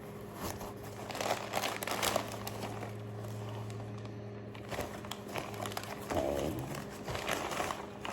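Paper packaging crinkles and rustles in irregular bursts while a care package from Japan is unpacked by hand, close and moderately loud against a low background hum.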